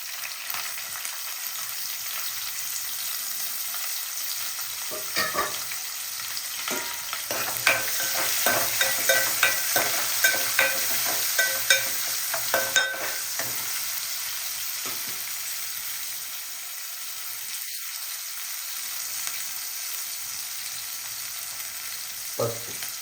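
Onion pieces fry in a pan for country chicken gravy, giving a steady close sizzle broken by repeated scraping stirs through the middle; no one speaks.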